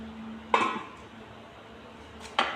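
A metal lid is set down on a cooking pot of chana masala, giving two sharp clinks about two seconds apart over a quiet kitchen hum.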